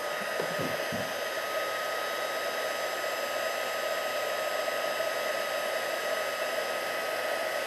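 A heat embossing tool blows a steady, even whoosh of hot air onto embossing powder over faux tile, held in one spot as the powder melts, with a few faint taps near the start.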